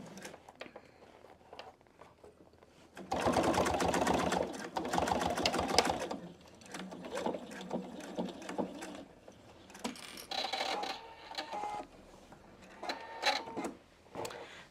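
A PFAFF Expression 720 sewing machine stitches a seam on a fabric pouch in a loud, fast whirring burst of about three seconds. Shorter, quieter runs and handling noises follow.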